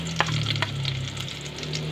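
Chopped garlic drops into a heated pan and starts to fry, giving a steady close sizzle with a couple of brief clatters of a small ladle at the start, no talk.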